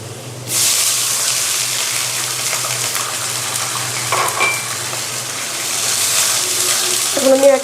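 Water poured into a pan of fried onions erupts into a loud, steady sizzle and hiss that holds for several seconds, with faint clinks near the end.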